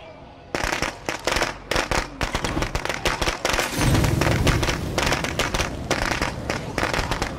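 Rapid crackling explosions in State of Decay 2 as a Molotov cocktail sets off chaos in a garage, dense irregular bangs and pops over a roaring burst of fire, loud and close throughout.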